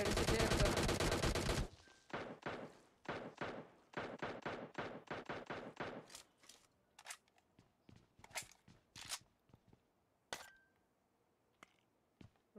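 Rapid gunfire from a battle royale mobile shooter, opening with a dense sustained burst and then breaking into repeated single and short bursts of shots, some sharp and near, others fainter, with no talk.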